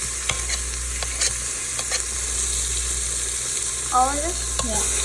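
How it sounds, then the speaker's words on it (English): Chopped onion, ginger garlic paste and chili are stirred in a hot Instant Pot for pav bhaji, a loud, close sizzle broken by scraping spoon strokes and clinks while people briefly talk. "And stir it."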